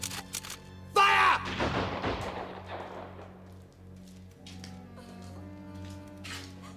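A firing squad's rifle volley rings out in a single loud, sharp burst that decays over a couple of seconds, followed by a quieter background with a faint voice.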